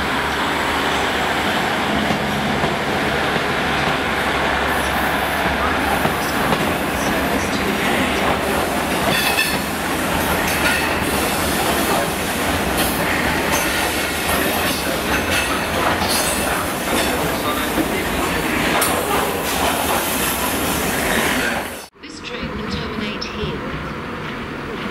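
A train pulling out of a station in Wales, a loud, close, continuous rumble of wheels and rails with squealing and a high insect-like whine, ending abruptly into quieter background.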